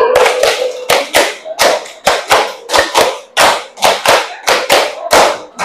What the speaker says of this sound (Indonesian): tepuk 5 3 kali.